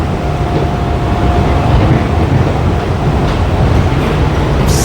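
Steady rumble inside a Bangkok Yellow Line monorail train on a busy ride toward Lat Phrao, with a continuous low drone and a faint hum throughout, loud and unbroken.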